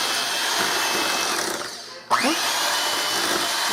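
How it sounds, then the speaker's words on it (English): Electric hand mixer beating eggs into a fudge pie batter, a steady whirring drone that dips briefly as the beaters pause and then starts up again, running close and loud with no talking. "to show you all how to do it, I'm going to use a mixer"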